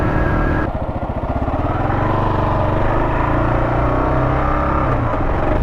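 A KLR 650 motorcycle riding away from Boulder Beach at Lake Mead, its engine droning loud and steady from close by as it pulls away, with a brief dip in pitch early on, and no talking.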